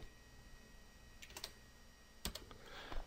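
Code is typed on a computer keyboard in a quiet room, a few short bursts of faint clicking keystrokes separated by pauses.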